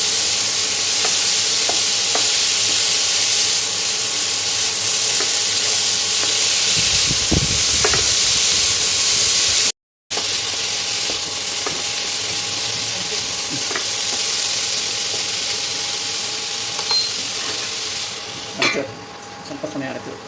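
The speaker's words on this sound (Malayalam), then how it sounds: "ഇത് നല്ലപോലെ വഴന്നിട്ടുണ്ട്" Chopped banana stem sautéing in a pan for pickle produces a continuous hissing sizzle with a few stirring clatters, close and steady, with a brief break partway through.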